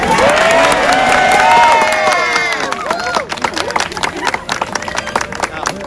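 Middle and high school students cheer, whoop and clap at an outdoor Manhattan street co-naming ceremony, loud shrill yells at first, then fading into scattered applause and excited chatter.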